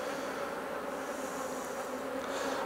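Honey bees buzzing around an opened hive during queen cell removal, a dense continuous hum of many flighty insects close by, with no talk.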